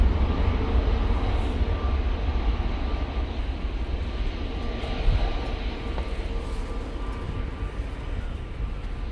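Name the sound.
EasyJet Boeing 737-800 jet arriving from Dublin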